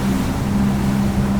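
A Hydrolift X-32S speedboat cruises at about 27 through confused, choppy water stirred by tide and wind, its engine a steady, loud, close drone with water rushing beneath the hull and no voices.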